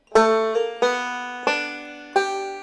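Four plucked banjo notes ring out one after another, each bright attack decaying slowly, with a short slide between notes in the first.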